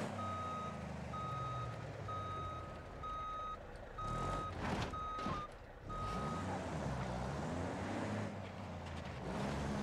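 A truck in a video game backs up with a steady series of evenly spaced reversing beeps over a continuous engine drone, briefly interrupted by a couple of louder bursts.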